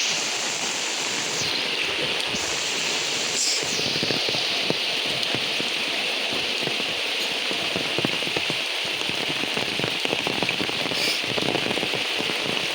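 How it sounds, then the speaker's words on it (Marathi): Heavy monsoon rain pours steadily in coastal Konkan in the evening, a dense, loud, unbroken hiss of drops on surfaces with no talking. "सगळा झणझणीत पाऊस आहे, एक नंबर पाऊस लागता."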